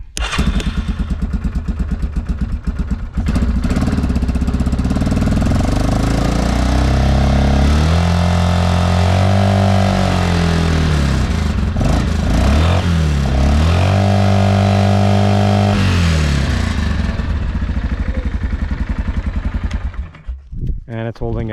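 A 2006 Yamaha Kodiak 450 ATV, just fitted with a new stator and regulator, cranks and fires, then runs steadily up close with loud engine drone, a few revs rising and falling mid-run before it shuts off near the end.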